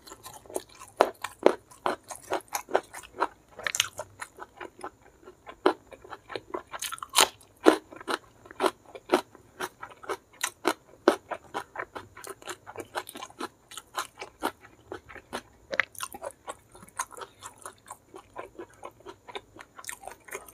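Close, rapid crunching and chewing during a mukbang of blood clams, petai sambal and smashed fried chicken, with dense irregular crisp bites and wet mastication throughout and no talking.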